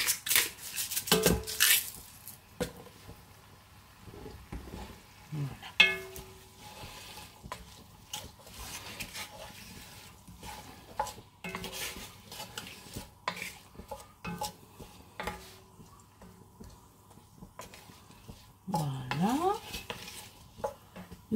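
A spoon scrapes and stirs vegetable risotto with tuna in a pan, with intermittent clinks and scrapes against the metal and a faint sizzle between strokes. A few brief, sparse sounds occur, and no one speaks.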